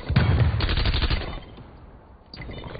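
A rapid burst of automatic gunfire rattles loudly in Call of Duty Black Ops Cold War during a hardcore Domination match in Uzbekistan, then fades briefly before a final shot near the end.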